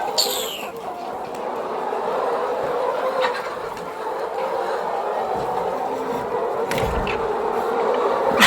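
Chickens on a poultry farm in Ghana with hens in nesting boxes, a dense murmur of clucking and buzzing insects filling the space, with a few sharper calls over a steady hum.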